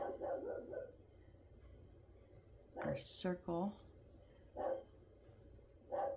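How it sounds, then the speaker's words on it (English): A pet dog barks a few times at the neighbors, sharp clustered yelps near the middle and two more later, amid someone talking while assembling a wooden 3D pinball machine. "sorry if you can hear my dog, just saying hi to the neighbors"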